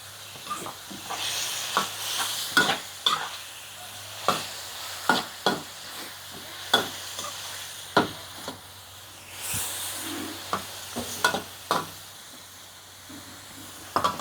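Bean sprouts and sun-dried pork stir-fried in a pan: a steady soft sizzle beneath repeated sharp scrapes and clacks of a spatula, coming in an uneven rhythm close by.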